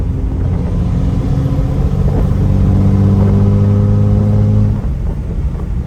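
A 5.9L Cummins diesel truck engine revs at about 75% throttle, a loud, steady, deep rumble held for nearly five seconds before easing off.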